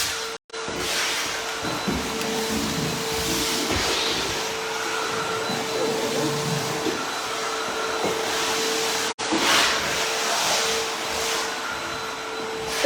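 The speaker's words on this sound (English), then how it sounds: "vacuuming it up so we can start coating" A vacuum cleaner sucks up sanding dust from refinished walnut floors, a loud steady whine with a high tonal hum, briefly cut off twice.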